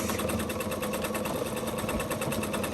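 A sewing machine stitches forward and back across a pillow, a fast steady mechanical whir with a rapid even needle rhythm, close and continuous with no talk.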